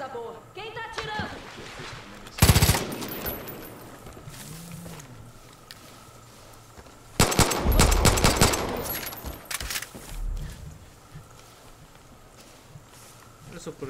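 Gunfire in Far Cry 5, with two loud broadband bursts of shots, one short and one longer sustained volley, over a low ambient game soundscape with speech mixed in.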